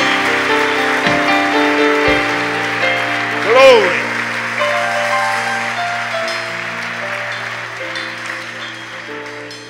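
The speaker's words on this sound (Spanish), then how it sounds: "denle una ofrenda de aplausos a Jesús." Church congregation in Panama applauding during a communion service, a steady wash of clapping under sustained music and a voice crying out, tapering gradually toward the end.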